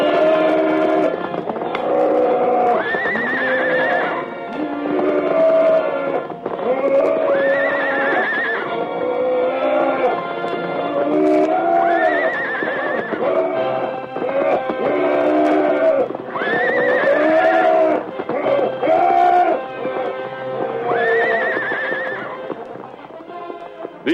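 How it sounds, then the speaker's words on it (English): For a radio drama, horses fight a buffalo, with repeated shrill, angry whinnies and neighs layered over pounding hooves and a dense, continuous roar of struggle, loud and close throughout. "The air was filled with bellows and whinnies of rage and defiance."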